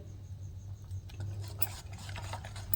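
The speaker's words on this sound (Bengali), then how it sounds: "খাবার সোডাটা দিয়ে এইভাবে একটু খুব ভালোভাবে মিশিয়ে নেবেন" Soft, close stirring of a thick semolina batter with baking soda mixed in, a quiet wet scraping and a few light utensil taps against the bowl, without speech.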